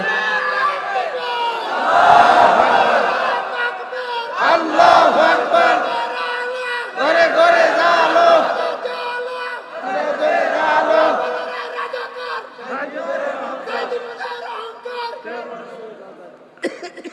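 A rally crowd chants slogans in loud, surging bursts of many voices, rising and falling in waves repeated over and over, with a leader's voice calling between the chants.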